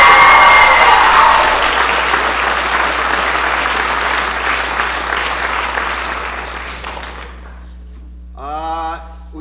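A crowd at a 2019 speech night awards ceremony applauds loudly for a seventh-grade third-place winner, the dense clapping gradually thinning and fading out before a brief voice speaks at the end.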